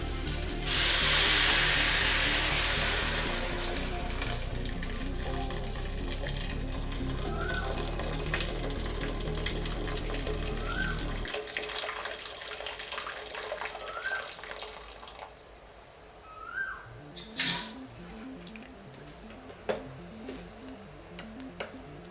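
Boiling water gushes into a pot of soaked rice for chicken mandi in a loud, steady pour lasting around ten seconds, then gives way to quieter bubbling with a few clinks and ticks of utensils.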